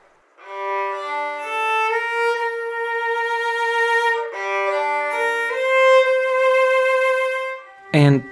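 Violin heard through a bridge pickup, giving a thin, direct tone; a slow bowed melody of sustained, clear notes plays alone, followed by a brief sharp noise at the end.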